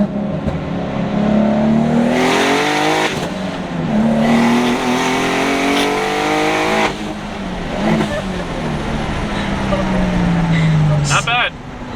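A 600 hp twin-turbo Nissan 370Z accelerating hard on the street, engine note climbing steadily through several gears with brief dips at each shift, loud and close from inside the car.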